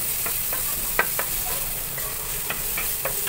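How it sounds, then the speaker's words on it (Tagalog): White onion sautéing in a pan with a continuous bright sizzle, broken by several light scraping knocks of a utensil stirring it. "gisa-gisa lang din natin yung ating sibuyas"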